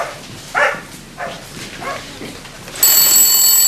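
A telephone rings in an office, a bright electronic ring that starts abruptly and continues loudly after several soft dog-like whimpers and yelps.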